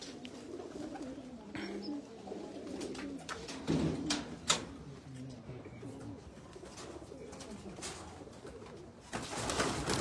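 Pigeons in a loft coo in soft, throaty, repeated phrases close by, with scattered clicks and rustles around them and occasional voices in the background.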